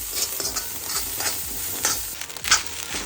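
Rice being stirred and fried in a pan over a chulha stove, with a continuous sizzle under repeated scraping strokes of a utensil, close and fairly loud, and no talking.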